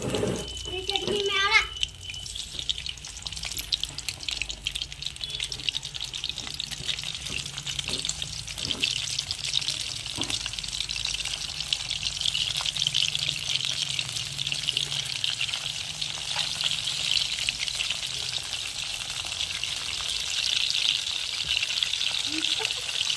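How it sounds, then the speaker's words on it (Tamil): Crab pieces frying in hot oil in a home kitchen, a steady broadband hiss and sizzle running throughout with faint clatter early on, no talking. "இப்போ எண்ணெய் காஞ்சிருச்சு நம்ம நண்டு எடுத்து பொறிச்சு எடுத்துக்கலாம்"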